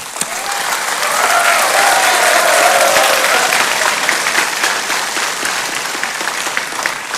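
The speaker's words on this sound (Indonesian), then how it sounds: "Silahkan tepuk tangan." Sustained audience applause fills a presidential debate hall, a steady dense wash of clapping that swells slightly mid-way and then tapers off a little.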